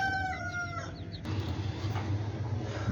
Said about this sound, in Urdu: اور یہ ہماری وہ مرغی ہے جسے ہم انڈوں کی مشین کہتے ہیں